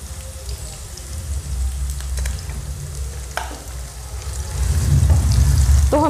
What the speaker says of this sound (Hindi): हमारा ऑयल हल्का सा गर्म हो गया है, तो सबसे पहले हम इसमें डाल देंगे प्याज